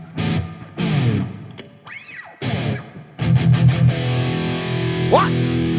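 Electric guitar (Artist AS72 Red Paisley Relic) playing palm-muted chugging riffs through heavy distortion with a noise gate, loud and sustained, with abrupt cuts to silence between bursts and a squealing harmonic sweep near the end.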